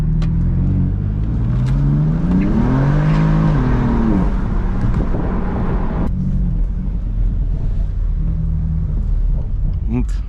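A BMW M4 engine revs loud and close with a low, steady rumble that rises and falls in pitch while the tires spin, and someone talks over it.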